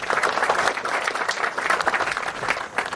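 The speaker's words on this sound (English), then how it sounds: "give a round of applause to the Aquehonga alumni" Audience applause for Aquehonga alumni at a summer camp's 80th anniversary event, steady dense clapping sustained at even loudness throughout, with no talk over it.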